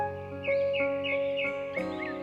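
A black crow caws in a children's animated story, with about five sharp, harsh calls in a quick, fairly even rhythm, close and loud with no talking.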